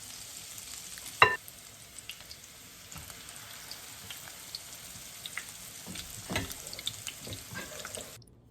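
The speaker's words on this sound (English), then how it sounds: "I'm going to continue frying the fritters" Egg and chouriço fritters frying in a pan over low to medium heat give a faint, steady sizzle with soft crackles and an occasional louder pop or scrape, with no voices.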